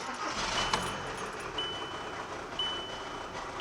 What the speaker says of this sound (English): It might take a while to settle down to a steady idle